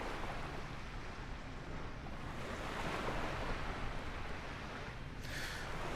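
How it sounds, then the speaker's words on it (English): Flight simulator scenery near Dundee carries steady ocean waves washing onto the shore, a continuous soft roar of surf with a hiss of wind, fairly quiet and without speech. "hear the water. It's a nice sound, beautiful sound."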